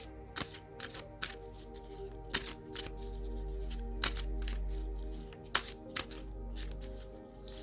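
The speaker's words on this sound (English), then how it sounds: "I'm going to pull an animal card for you first of all" Oracle animal cards are shuffled and drawn by hand, giving a run of crisp riffling bursts and soft slaps at an uneven pace, close and clear over a low steady hum.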